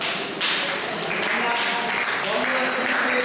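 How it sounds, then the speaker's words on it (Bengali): An audience claps steadily and densely throughout at a Divine Life Society health camp in Hamiragachi, West Bengal, a continuous roomful of hands with some voices underneath. "প্রত্যেকে করতালি দাও।"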